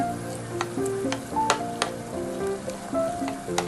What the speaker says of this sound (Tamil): இந்த வெங்காயத்தை போட்டு நல்லா வதக்க ஆரம்பிச்சிடலாம்